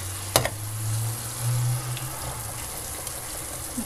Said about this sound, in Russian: Теперь это все жарим вместе с помидорками.